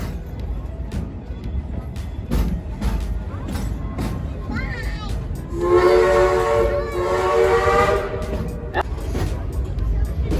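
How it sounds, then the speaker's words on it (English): A steam train whistle sounds in a long toot over rumbling engine noise at an amusement park, with people talking nearby throughout. "Give me a few more toots on the whistle there, Ichabod."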